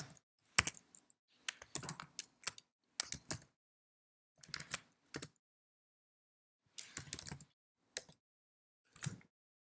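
Code is typed on a computer keyboard in short bursts of quick, close key clicks. Each burst is broken by brief silent pauses in an otherwise quiet room.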